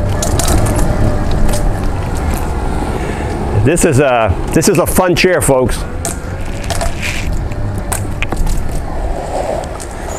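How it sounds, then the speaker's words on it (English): A Magic Mobility V4 rear-wheel-drive off-road power chair rolls over acorns scattered under a tree, giving a steady rough crunching and grinding rumble throughout while someone speaks over it. "All that noise you hear, there's a bunch of acorns on the ground here that fell off this tree right here."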